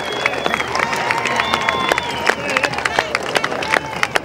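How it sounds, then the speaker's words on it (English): A crowd at the Stawell Gift footrace claps and cheers for the race winner, a busy wash of applause and shouts with background babble and a commentator's voice running over it. "a big round of applause for Sam Jamison"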